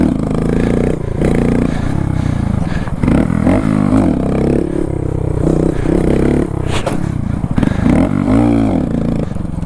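A Honda Grom motorcycle is ridden hard during street stunting. Its small engine revs and bogs loudly and close up, with rising and falling pitch, throttle blips and some scraping clatter throughout.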